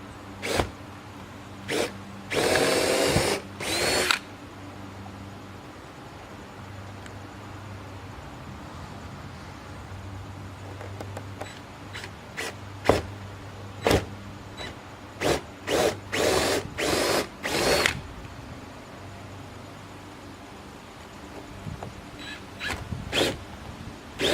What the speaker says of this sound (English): the mounting screws. I'm going to start off really slow, so I don't want to tear the siding any more than I have to.